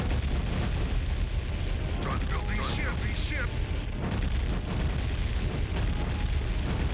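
Missiles explode in a Warcraft 2 naval battle as a dense, continuous rumble of blasts and booms, with game effects layered over a constant loud mix.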